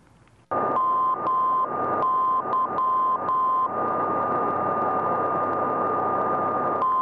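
Steady continuous tone from an aircraft ADF navigation receiver, broken into short keyed gaps of a Morse-style station identifier, heard over constant hiss and static, loud and alone with no talking.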